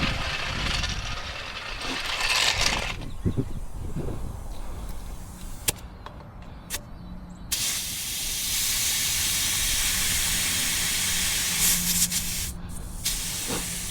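Air hisses out of an overinflated tire during a tire change, several steady bursts of close, sharp hissing with short gaps and clicks between them, the longest and loudest near the end.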